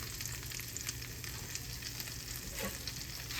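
Stuffed French toast with cinnamon, made from homemade bread, sizzles and fries in oil in a pan, a steady close crackle with faint stirring, no talk.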